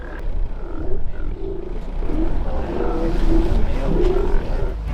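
Sea lions bark and roar near rocks off the coast of Vancouver, deep throaty calls overlapping in a rough, continuous chorus that sounds close and fairly loud.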